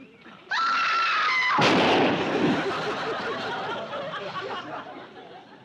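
In a comedy scene a shot is fired at a fox fur: a shrill cry is followed by one loud, close gun blast that leaves a noisy commotion behind it.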